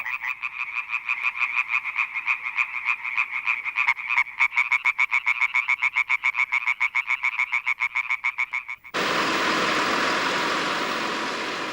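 A dense chorus of frogs and toads calling loudly nearby, a rapid pulsing croak repeated in a steady rhythm for about nine seconds before giving way abruptly to a broad hiss.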